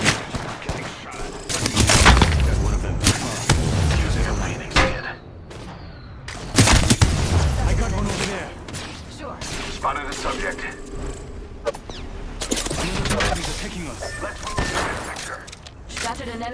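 Gunfire in the video game Apex Legends comes in loud, close bursts and rapid volleys separated by brief lulls, mixed with mechanical clicks and crashes, while a voice speaks at points in between.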